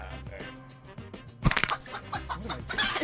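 A rooster crowing sound effect bursts in abruptly after a quieter opening, with loud, close, ragged squawking calls rising and falling over about a second and a half.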